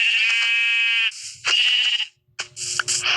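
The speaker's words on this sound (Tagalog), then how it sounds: "Importante, meron tayong tupa." Sheep bleating in a video game, with several clear, loud bleats from nearby, separated by short pauses and brief in-game noises.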